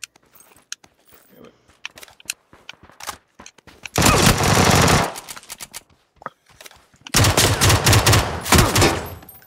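Automatic gunfire in the PlayerUnknown's Battlegrounds video game: scattered single shots and clicks, then two loud sustained bursts of rapid fire separated by a quieter gap.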